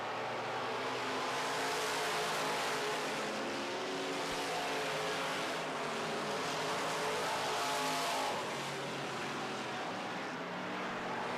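Midwest Mods race cars running the final lap of a dirt-track heat race, a continuous roar of several engines revving and droning close by, steady and loud throughout with no talk.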